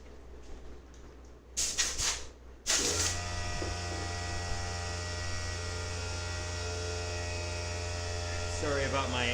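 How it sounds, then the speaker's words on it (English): A small pancake-style air compressor kicks on after a few brief clunks and then runs with a steady, loud motor hum and whine that continues to the end. "I've got a very small pancake style air compressor, and it goes off every 10 minutes."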